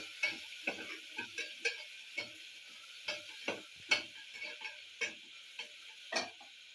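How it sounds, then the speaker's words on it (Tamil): Onions, curry leaves and green chilies being sautéed in a pan for a white channa kuruma, heard as a series of sharp spatula scrapes and taps over a faint sizzle, spaced irregularly, close and fairly quiet, with no talking. "இப்போ வதக்கி விடலாங்க"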